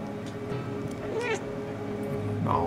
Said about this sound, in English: Oh, kitty went meow.